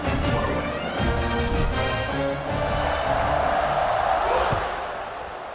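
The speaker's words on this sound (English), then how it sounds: "this crowd is buzzing after that last score" Stadium crowd in EA Sports College Football 26 keeps up a loud, continuous buzz and roar after a touchdown, with some higher whoops on top, easing slightly toward the end.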